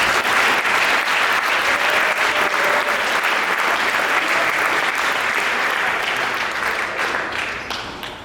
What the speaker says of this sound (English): And a round of applause for Mr.